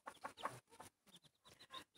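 A mother hen clucks to call her chicks, giving repeated soft, rhythmic clucks close by in a backyard flock, with faint higher chick peeps in the gaps and no talking.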